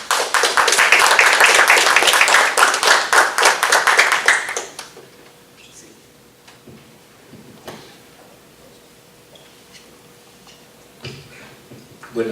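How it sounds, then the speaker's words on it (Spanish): An audience welcomes Licenciado Tinoco at a talk about Honduran migrant caravans with loud, dense applause for about four seconds, which then fades into quiet room noise. Scattered small taps and shuffles follow. "Vamos a recibir al licenciado Tinoco con un cálido aplauso"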